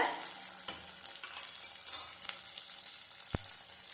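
Onions sizzle and fry in a pan with a steady crackle, broken by a few stirring scrapes and one sharp clink of a utensil.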